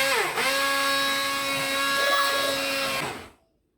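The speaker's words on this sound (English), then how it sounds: "you need your blender, whatever it is you're using, and blend away" A kitchen blender whirs steadily as it purées lumpy Thai pumpkin soup, a loud, close motor whine with a brief dip near the start before it winds down and stops.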